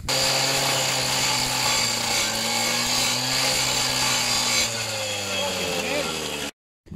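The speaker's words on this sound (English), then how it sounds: "So we got the old fucking cordless grinder here." A cordless grinder roughs up a metal surface with a loud, continuous abrasive whine that runs for several seconds before stopping abruptly.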